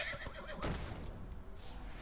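A short horse neigh from the Hearthstone card game, a quick whinny over soft game audio and faint clip-clop, quiet and brief, with no talk.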